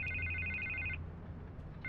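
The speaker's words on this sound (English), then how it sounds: "I can't get the phone to stop ringing" A telephone rings in Batman: The Telltale Series, giving one trilling electronic burst that stops and then starts again near the end, over a low background hum.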